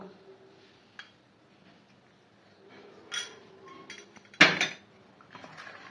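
Aloo kabli, a street-food potato snack, being mixed with tamarind pulp in a bowl at home: scattered clinks and scrapes of a spoon against the dish, with one sharper knock near the end, quiet and close, with no talk.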